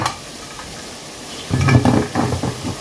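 A pot of soup being brought to a boil on a stove for tom yum, heard as a quiet hiss that swells halfway into louder bubbling and rattling from the pot, close by, with no talking.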